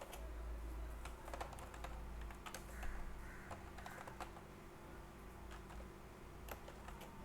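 Steady typing on a computer keyboard while writing JavaScript code, a quiet run of irregular clicks and key taps over a low hum, with no talking.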